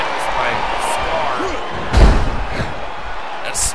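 A wrestler is driven onto the ring canvas with a spinebuster, giving one heavy, booming slam at close range amid arena crowd noise and a commentator's voice.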